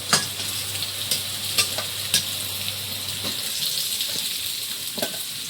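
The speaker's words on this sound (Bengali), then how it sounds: "লাল লাল ভেজে নিয়েছি" Steady crackling sizzle of large katla fish frying in hot oil in a wok, with a few sharp clinks of a utensil stirring the pan now and then.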